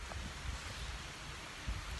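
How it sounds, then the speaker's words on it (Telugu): Heavy rain pours steadily during a roadside stop on a bike ride, a continuous hissing wash with a few faint low thumps, faint and even throughout. "వర్షం అయితే విపరీతంగా వస్తుంది."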